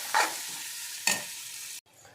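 A ridge gourd and egg curry with onions, turmeric and ginger is stirred in an oil-filled pan, with two scraping strokes over a steady sizzle of frying before the sound cuts off abruptly.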